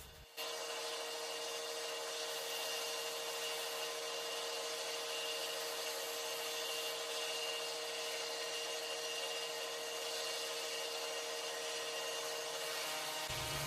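A router fitted with a sanding head and 120-grit sandpaper polishes wooden parts for a Ford Model T-style hot rod replica, giving a steady, loud, continuous whine and rasp that runs unbroken and alone.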